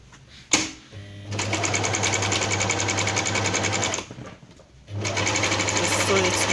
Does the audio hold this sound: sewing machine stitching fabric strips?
yes